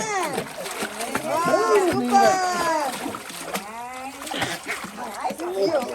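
A baby swimming in a village pond sets off repeated splashes and sloshing water, heard close by beneath steady overlapping talk from adults and a child.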